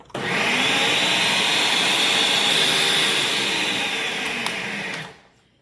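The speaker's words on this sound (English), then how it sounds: "Continue blending for another minute or so to combine all the ingredients" A blender whirs steadily through pistachio coquito ingredients, a loud, close, continuous motor roar that starts abruptly and winds down at the end.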